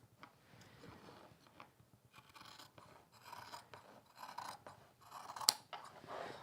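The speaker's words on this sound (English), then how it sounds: "you can cut it out with your scissors" Scissors snip through fabric for a quilting project in a close, quiet indoor setting, giving soft repeated crisp cuts and rasps in an irregular rhythm with one sharper snip near the end.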